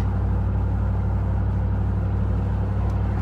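A heavy truck rolling downhill gives a steady, loud, low engine and road rumble that holds evenly throughout, with no voices.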